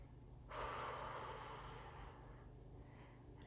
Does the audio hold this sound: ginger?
no